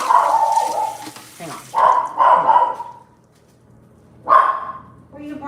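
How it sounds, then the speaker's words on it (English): A dog barks several times nearby in loud bursts, with a brief spoken phrase between them. "Let me see who she's barking at."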